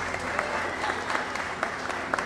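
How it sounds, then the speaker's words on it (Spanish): Spectators at a children's huipil queen coronation in Cuetzalan give sustained applause for the young participants, a thick, continuous wash of clapping with a few sharper claps standing out. "un caluroso aplauso fuerte para las participantes"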